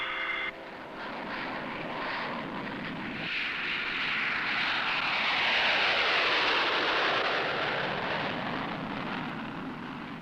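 An Army aircraft carrying a field hospital unit takes off, its engines swelling into a loud, sustained roar that peaks midway and then begins to fade, with no talk.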